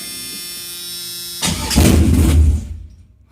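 An LQ4 V8 with open headers, fitted in a 1987 V10, cranks over a steady whine and then catches, roaring up loud and close for about a second before cutting off abruptly.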